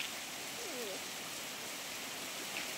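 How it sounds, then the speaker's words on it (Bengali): Steady rain falls outside a house on a rainy day, a soft continuous hiss with a few faint bird-like chirps early on. "কেমন বৃষ্টি হচ্ছে?"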